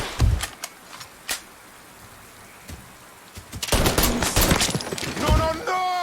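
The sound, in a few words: gunfire in video game Mafia III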